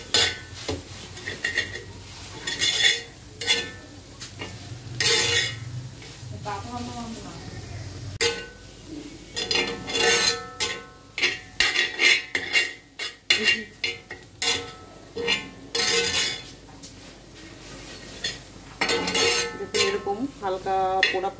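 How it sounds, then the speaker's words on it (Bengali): Potato, flat bean and coriander mash is fried and stirred on a flat iron tawa, giving repeated scraping and clinking of a metal spatula over a soft sizzle, close and loud, with a voice talking over it. "এরকম করেই কিন্তু এটাকে সুন্দরভাবে ভেজে নিতে হবে"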